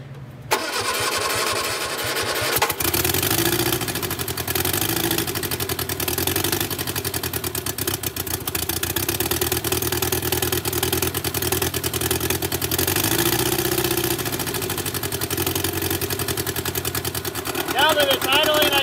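A barn-find Austin-Healey Sprite with a mechanical fuel pump and chokes held up cranks with rapid starter churning, catches and settles into a loud, steady mid-pitched idle close by, running on for many seconds.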